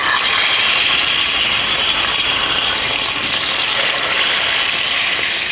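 Marinated fish frying in oil in a pan, a loud continuous broadband sizzle that stays steady without a break.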